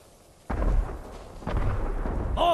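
Fireworks explosions in the video game Ghost of Tsushima: two heavy booming blasts with low rumbling tails, one near the start and one midway, followed by a brief tonal burst at the end, with no talk.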